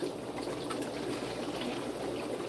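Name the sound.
water poured from 2-liter bottle into fish fry tank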